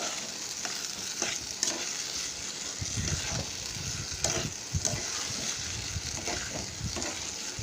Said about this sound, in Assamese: এয়া লৰাই দিছোঁ।